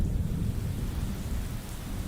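Heavy rain pours in a dense, steady roar with a low thunder rumble beneath, part of a scary video game scene, continuous and close with no voices.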